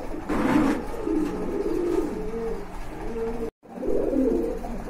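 Pigeons in a loft give deep, throaty coos in repeated rolling phrases, close and clear, with a brief dropout before the cooing resumes; no one speaks.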